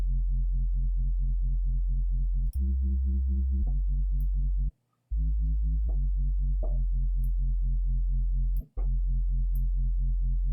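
Synthesizer tone with its LFO switched to a triplet rate for minimal drum and bass, heard alone as a steady, loud pulsing sine-like note that steps up and down in pitch, with brief dropouts and sharp clicks.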